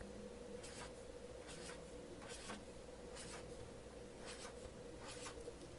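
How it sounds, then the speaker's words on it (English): Pen or marker drawing small disks on paper, a series of short scratchy strokes in bursts, close and quiet with no talk. "So I'm going to go ahead and draw my disks in."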